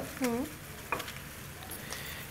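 Bay leaf sizzles in hot white oil in a pan, a soft crackling fry heard close and steady, with brief scraping taps and a short voice-like sound early on.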